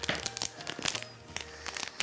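A plastic bag's top folded down during a Christmas snowman soup craft, producing close, soft crinkling and rustling in short bursts, quiet and without talk.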